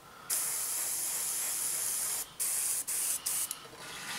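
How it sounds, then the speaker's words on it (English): An airbrush sprays RLM02 paint (Humbrol/Revell 45) onto a Hasegawa 1/48 Messerschmitt Bf109E-3 model aircraft, a steady close hiss that runs in long bursts broken by a few short pauses near the end. "we've got some airbrush here, got some RLM02 paint"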